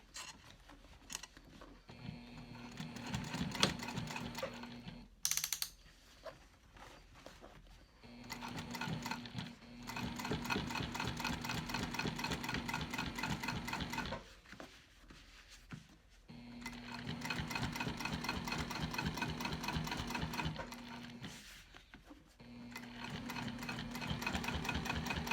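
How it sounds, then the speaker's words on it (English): A sewing machine stitches side leather for a convertible backpack at a long stitch length, running in several sustained, even rattling stretches separated by pauses and handling noises, fairly quiet and close. "So working with the side leather, I'm going to extend my stitch length again."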